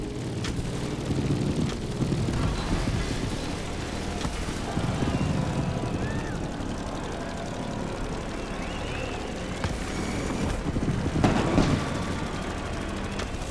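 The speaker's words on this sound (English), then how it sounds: "Let's start a descent and get ready for the landing." Airplane descending toward Honolulu in The Crew Motorfest video game, a steady broad engine drone with rushing wind, loud and continuous with slight swells, no voices.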